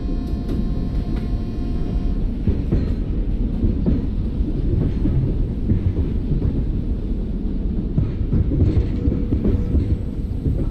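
Steady low rumble of a super fast express train rolling fast over rails in a railway simulator game, with constant heavy wheel noise, light clatter and faint high tones early on.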